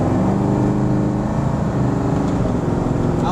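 A 1971 Ford Mustang Grande driving through corners gives a steady, loud engine drone with shifting tonal hum inside the car, unbroken and without voices.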